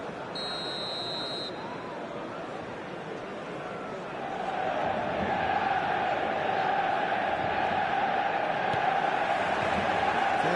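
Stadium crowd noise from an eFootball 2026 match, a steady dense roar of babble that swells louder partway through and holds, with a brief electronic beep tone near the start.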